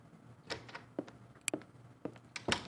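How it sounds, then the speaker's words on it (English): A door sound effect for a machinima soundscape: quiet clicks, knocks and latch-like clunks arrive at irregular intervals, each trailing a slight natural room reverb, with no talk. "The door sounds good, and it's not completely dry."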